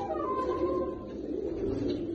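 Pigeons cooing on a rooftop in rainy weather, a soft continuous low coo under steady background noise.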